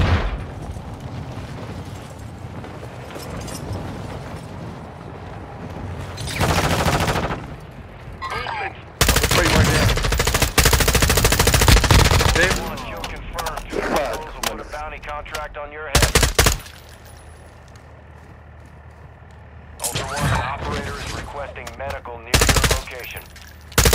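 Call of Duty DMZ firefight: loud machine-gun bursts and heavy volleys erupt in several long stretches, broken by quieter gaps with voices talking over the combat.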